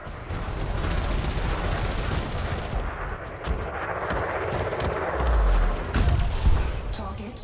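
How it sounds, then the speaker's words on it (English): Dense, continuous explosions and gunfire-like blasts from space combat in Elite Dangerous, a loud rumbling barrage with heavier booms toward the end. "It was just a load of explosions going off around him."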